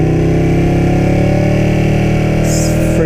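Ducati 959 Panigale motorcycle engine idling loud and close, a steady throbbing drone with even tonal layers throughout, a faint higher hiss joining near the end.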